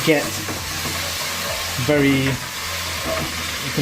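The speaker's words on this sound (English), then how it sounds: "you need 3 teaspoons of onion paste. Pop that in and give it a stir." Onion paste frying and being stirred in a pan for a hilsa fish curry, a steady sizzle with scraping stir strokes close up, no talk.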